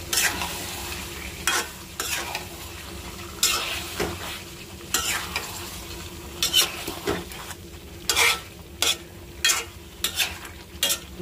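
Meat and spices sauté in a pan with a continuous sizzle, overlaid by repeated loud scrapes and clanks of a spoon stirring against the metal, coming in irregular bursts.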